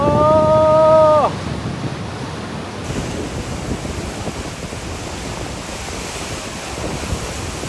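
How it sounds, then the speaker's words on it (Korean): Ocean waves crash by a breakwater in Taiwan, a loud, steady rush of surf and wind that fills the scene without a break, after a short electronic tone at the start. "우와, 여기 파도가"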